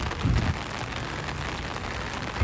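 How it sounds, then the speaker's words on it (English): Heavy pouring rain at a Disney World park, a dense, even wash of drops on surfaces, moderately faint and continuous, with a couple of soft low thumps and no talking. "It's a raining, it's a pouring."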